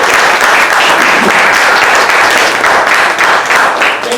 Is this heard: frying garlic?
no